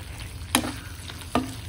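Chicken fries in oil in a pan, a faint steady sizzle broken by two sharp spattering pops, with no voices.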